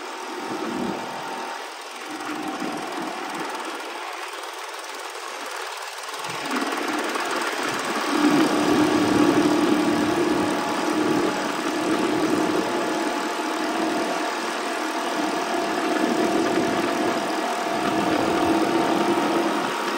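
A Jawa 250 type 353 motorcycle engine, freshly overhauled and low on power, runs steadily, then the throttle opens and it climbs into a louder, sustained buzzing rev that holds, with no talking.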